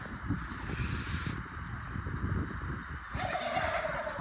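A turkey gobbles loudly and close by in Cyprus, with rapid warbling bursts over a noisy farmyard background of chickens and peacocks, and no talking.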